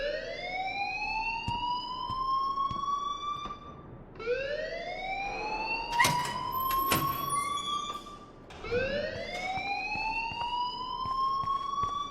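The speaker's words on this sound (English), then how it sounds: "please turn off that alarm since that's your job" An in-game fire alarm wails in Life is Strange, a rising electronic siren sweep repeating about every four seconds, loud and continuous, with a few sharp clanks between cycles.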